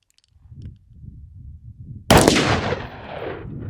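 A Draco pistol fires a single loud, sharp shot at an outdoor range, its blast ringing out and trailing off over about a second, after a stretch of low background rumble.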